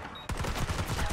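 Gunfire from a gun in a video game breaks a brief quiet and becomes a loud, rapid, continuous burst of shots that runs close and steady to the end.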